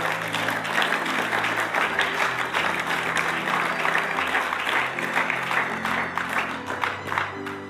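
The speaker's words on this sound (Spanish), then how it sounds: "Denle un aplauso a la gloria de Dios." A church congregation claps together during a sermon, dense sustained applause from a crowd in a hall, loud and steady throughout with a few voices mixed in.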